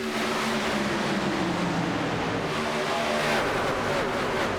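Pack of race trucks in the HTL Hammer Down Truck Series race at Chicago roaring steadily out of turn 4, a continuous loud engine drone with shifting pitch as they run together in the draft.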